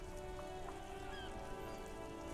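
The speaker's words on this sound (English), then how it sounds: "This rain will not let up anytime soon." Steady rain pours in the Disco Elysium video game, a dense, even hiss filling the scene with faint scattered drops and a low background hum, no voices.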